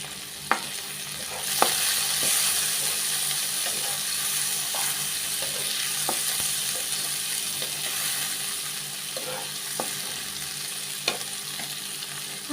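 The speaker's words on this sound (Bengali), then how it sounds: "আগে একটু নাড়াচাড়া করে নেই, না হয় লেগে যাবে।" Onions fry in a pan with a soft, constant sizzle, broken by a few sharp scrapes and taps as they are stirred at scattered intervals, close by.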